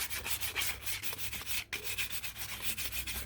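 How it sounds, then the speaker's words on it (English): Very fine sandpaper lightly rubbed along an axe in short, steady strokes, a soft close scratchy rasp repeating in an even rhythm with a brief pause midway. "It's very fine sandpaper."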